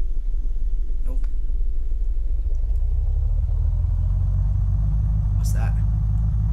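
A car in the video game Unturned cruises down a highway, its engine a steady, loud low rumble throughout, with a couple of brief faint clicks above it.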